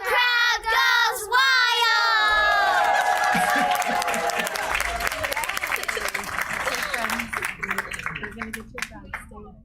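A large audience at a school board meeting bursts into loud, sustained applause with cheering and yells. Early whoops and shouts ride over dense clapping that continues steadily to the end.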